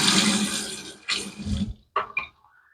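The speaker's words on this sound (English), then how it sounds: "Let me get a little more water on this." Tap water running into a bowl of Ariana & Evans Ultima shaving soap lather, a brief splashing pour that stops, then two short bursts of water added separately, close and fairly loud.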